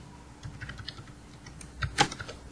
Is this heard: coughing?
no